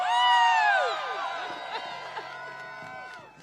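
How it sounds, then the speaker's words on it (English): An outdoor crowd gathered in the cold at a People's State of the Union rally cheers and whoops loudly, then the roar eases into sustained applause and scattered shouts, with voices rising above it at the start. "Give them a round of applause."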